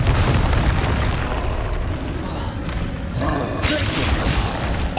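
Confringo fire-blast spell explosions in the Hogwarts Legacy video game, loud booming bursts and roaring blasts layered over continuous game action, with a sharper bright burst near the end.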